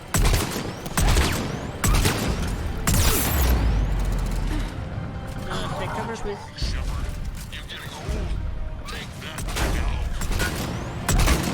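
Gunfire in the sci-fi shooter Mass Effect 3, repeated loud bursts of shots and mechanical clatter across a combat scene, with voices speaking over the fighting.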